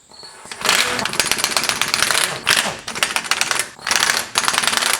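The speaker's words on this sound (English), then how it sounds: "Using a 14mm socket, we're now going to remove these 6 nuts from the studs." A 14mm socket on a ratchet or impact tool backing off the six hub nuts on an E70 Land Cruiser during front brake and bearing work, loud rapid rattling bursts with brief pauses between them, close by.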